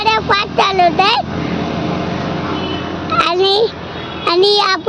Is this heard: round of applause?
no